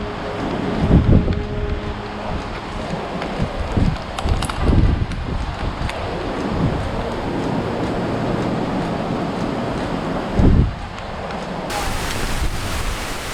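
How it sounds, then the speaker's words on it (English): Strong storm wind in Alabama roaring steadily, with several loud gusts thumping against the microphone and rain hiss underneath. "About to get really windy."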